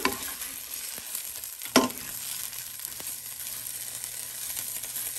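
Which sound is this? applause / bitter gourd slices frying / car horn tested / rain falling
bitter gourd slices frying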